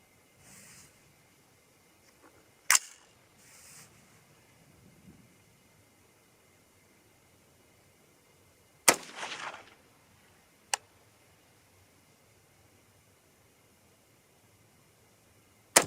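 Rifle shots, 300 Ham'r or 6.5 Grendel, fired at targets: four sharp, isolated cracks spread irregularly over a long, quiet stretch, one followed by a brief rattling tail.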